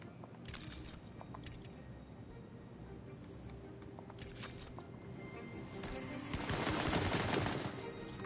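Enemy gunfire in the video game Tiny Tina's Wonderlands: scattered, fairly faint shots and short rapid bursts crackle over a steady game background, with a louder barrage toward the end and no talk.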